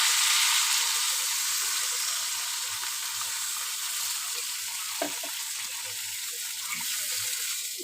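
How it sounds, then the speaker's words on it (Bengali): Water poured into a hot pan where fish has been frying, setting off a loud, steady sizzle that hisses continuously and settles slightly, with a faint clink partway through. "এখন আমি জল দিয়ে দেবো।"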